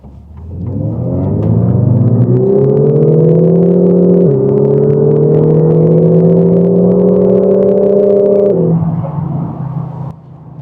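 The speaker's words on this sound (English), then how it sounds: "let me actually turn on the noise, the engine noise inside the cabin" Engine note inside the cabin of a 2017 Lexus IS300h hybrid as it accelerates, a loud steady rising drone with a smooth, even whine that swells, holds, dips briefly and climbs again before settling.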